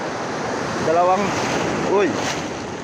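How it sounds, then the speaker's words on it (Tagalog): Ocean waves wash onto a shore in the Bicol region while crab traps are gathered, a steady broadband surf with gentle swells and light wind over the microphone, and brief talk rising over it now and then. "Dito pa sa may alon."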